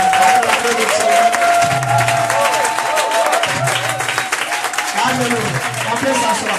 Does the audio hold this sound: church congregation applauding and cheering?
yes